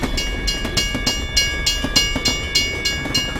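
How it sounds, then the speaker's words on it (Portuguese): Close, loud clickety-clack of a train rolling past a railway crossing, with regular rhythmic wheel beats about every quarter second over a steady rumble and a faint sustained tone. "Mas o trem demorou a passar"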